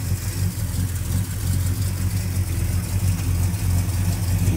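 A car engine idles steadily with a low, even rumble while a radiator and engine flush runs, with no voices over it.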